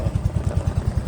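A white Yamaha Fazzio scooter's small engine turns over and runs in a rapid, steady pulsing putter, close and fairly loud, with no talk over it.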